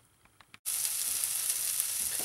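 Smoky stuffed mushroom caps with melted cheese sizzle in a hot pan, a steady loud frying hiss that starts abruptly after a brief quiet moment and continues without a break.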